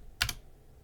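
A couple of quick keystrokes on a computer keyboard, a brief close double click that fades into quiet room tone.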